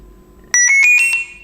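A CarpSounder AGE ONE carp fishing bite alarm receiver switching on, giving five quick, loud, bright beeps in an even rhythm, close by, after near silence.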